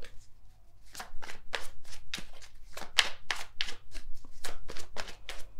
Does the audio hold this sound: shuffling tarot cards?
yes